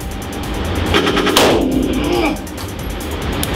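Real firearms fired at an indoor shooting range: loud, sharp gunshots in a quick burst with one heavy blast, followed by ringing echo and a muffled voice in the background.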